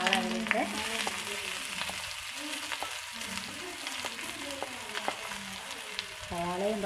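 Onions sauté in hot oil in a pan over the stove, a constant close sizzle with stirring knocks and brief tonal squeaks, heard without speech.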